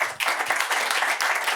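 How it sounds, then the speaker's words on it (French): Applause from an audience at a French talk about the future of dentistry, a dense steady clatter of many hands at moderate level for the whole moment. "On l'applaudit bien fort."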